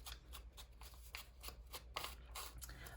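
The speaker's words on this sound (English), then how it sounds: "let's tear it about right here and ink it up" Paper is torn by hand for a prayer collage journal in a quiet room, several short faint ripping bursts in quick irregular succession.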